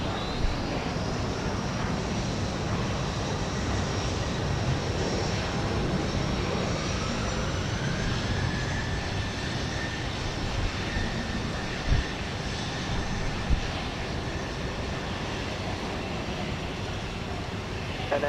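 An airliner takes off at Houston Intercontinental, a continuous engine roar of steady moderate loudness with a rising whine partway through and a few faint knocks.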